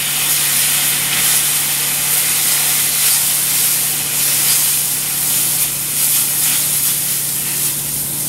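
Steady loud sizzling hiss from liquid in a hot pan as flour cooks down, continuous and close with a low hum underneath and no voices.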